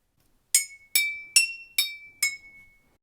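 Five separate strikes on glass jars of a homemade glass xylophone, each a bright clink that rings on with a clear sustained tone, evenly spaced and close.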